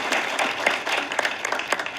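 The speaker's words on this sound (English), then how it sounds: "Can we just give that a round of applause?" An audience at a faith-based talk show gives a brief, moderate round of applause, a soft continuous patter of many hands lasting about two seconds.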